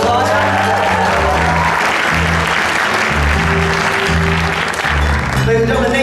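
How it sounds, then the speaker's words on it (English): An audience at a talent show applauds the lead guitarist with loud, sustained clapping over steady background music, lasting throughout. "Give him a round of applause."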